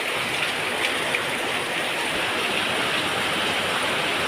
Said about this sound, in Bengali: ও দুর্ধর্ষ বৃষ্টি, দুর্ধর্ষ। এরমই তো হাওয়া চাই